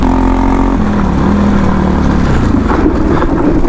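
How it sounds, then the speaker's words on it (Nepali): A motorcycle ridden along a rough off-road mountain trail from Marpha toward Upper Mustang, its engine droning loud and close with a steady rumble that shifts pitch as the rider changes speed, no voices. "अब एकछिन यसो बाइक कुदाउनु पऱ्यो"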